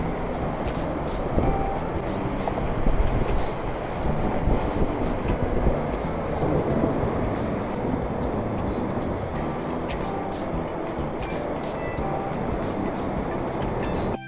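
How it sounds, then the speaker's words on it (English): Steady roar of a large Icelandic waterfall heard from close by, a loud, continuous rush of falling water with wind buffeting the microphone throughout and no voices. "I am closer to the waterfall."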